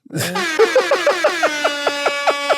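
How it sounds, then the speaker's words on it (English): A loud air horn blares a rising wail, then pulses in a rapid series of short repeated blasts, close and piercing. "It's funny that the air horns is funny."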